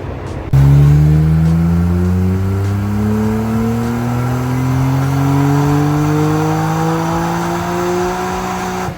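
Nissan R34 GT-R with a Haltech ECU revving hard on a dyno, loud steady engine pull with its pitch rising smoothly under load for several seconds before easing off at the end.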